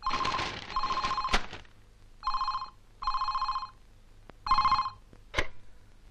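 An old-style telephone bell rings in bursts indoors in a family home, four or five loud ringing trills separated by short pauses, with a few sharp knocks between them and no talking.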